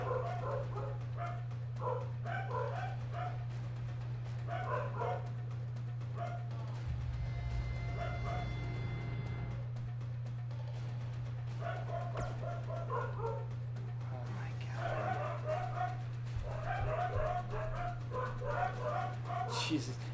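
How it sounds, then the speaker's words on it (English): A dog at home barks, yips and whines in repeated excited bursts, fairly close, over a steady low electrical hum, with a person talking at times in between. "My dog's going nuts."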